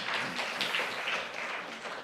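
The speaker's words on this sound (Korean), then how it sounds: "우리 하나님께 영광의 박수를 돌립니다." A church congregation claps during a Sunday morning service, a soft, diffuse patter of many hands that stays steady and fairly quiet over its short span.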